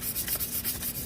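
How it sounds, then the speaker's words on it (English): Sandpaper roughs the surface of a Hydro Flask in quick, rhythmic back-and-forth strokes, a soft close scratching repeated about ten times in a second. "I want to first come in and use sandpaper on our object"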